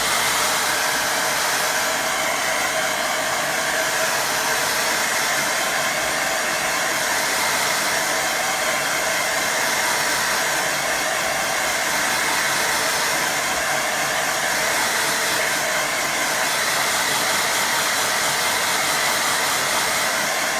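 A hair dryer blowing on a watercolour painting gives a loud, steady, unbroken whoosh with a faint motor whine, close and continuous with no talking.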